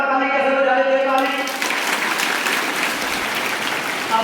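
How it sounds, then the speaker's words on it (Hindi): Children clapping together at a school assembly at Brahm Jyoti Public School in Kassupur, Shamli; after a brief stretch of talking, a dense, steady wash of applause fills the remaining seconds. "अभी स्वास्थ्य के लिए भी सारे बच्चे ताली बजा रहे थे ना"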